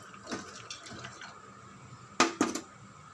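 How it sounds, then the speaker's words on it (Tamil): Quiet trickling and dripping water drained from soaked lentils, with small clinks of a utensil, then two sharper metallic knocks against a container near the end. "இங்கே பாருங்கள், தண்ணியை வடிய வச்சுட்டு"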